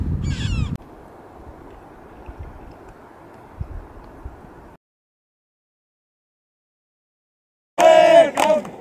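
A red-billed chough calls on the Baltoro glacier, with loud harsh cries at the start and again near the end, separated by faint wind and a stretch of near silence.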